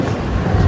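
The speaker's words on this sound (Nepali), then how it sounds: "कस्तो मजाले हावा आइरहेको छ यहाँनिर त अहिले त" Steady outdoor wind rumbles and buffets against the microphone in a low, continuous roar that swells slightly toward the end, with no clear voices.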